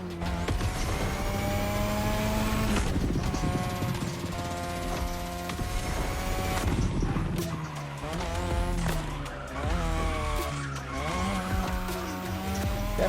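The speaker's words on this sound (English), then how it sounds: "Tonight your ride is a 3rd gen 2002 Mazda RX-7. Lightweight, compact, a sick rotary engine" A 2002 third-generation Mazda RX-7 with a rotary engine revs loudly and continuously in a driving game, its pitch climbing and dropping through repeated gear changes, with tire squeal mixed in.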